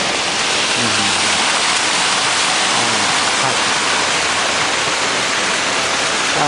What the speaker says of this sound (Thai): นี่ก็เป็นโซนน้ำน้ำตกนะฮะ น้ำตก